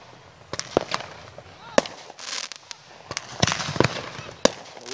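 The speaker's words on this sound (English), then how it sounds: "enjoy the rest of these fireworks" Fourth of July fireworks go off outdoors in sharp bangs and crackles, several loud pops scattered irregularly with faint crackling between them.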